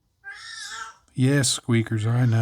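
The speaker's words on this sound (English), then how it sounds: "That's my cat reminding me she wants more water." A pet cat gives one drawn-out, plaintive meow asking for more water, close and clear, and then a person talks to it.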